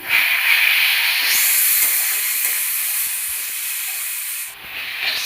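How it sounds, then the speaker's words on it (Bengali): Small tomatoes and onions fry in a pan, giving a steady broadband hiss that stays loud and even for several seconds, with a brief dip near the end before picking up again; no one speaks. "ভাজা হয়ে এসছে টমেটো ছোটো সাইজের টমেটো"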